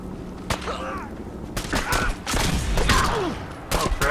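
A shotgun in Fallout 4 fires in several sharp, loud blasts spaced unevenly over a few seconds, with a voice shouting between shots.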